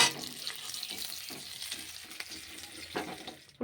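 Cauliflower and potato pieces frying in oil give a soft, continuous sizzle, broken by scraping stirs and a few light clinks.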